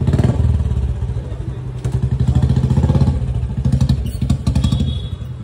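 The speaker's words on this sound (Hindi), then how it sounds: "तो जी हो चुकी है स्टार्ट अपनी बाइक" A Royal Enfield Bullet motorcycle engine runs steadily up close, its loud, even thumping beat continuing alone throughout with slight rises in revs.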